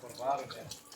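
Water is poured over a body as it is washed with bidara leaves in a funeral washing practice, a short close splash and trickle that swells and then fades, with a voice murmuring nearby.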